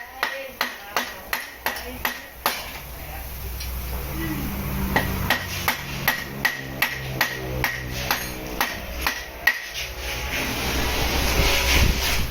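Sharp metallic hammer strikes ring out one after another in a steady rhythm, close by, fitting a rear sprocket onto a three-wheeled cycle, with a low hum and someone speaking underneath.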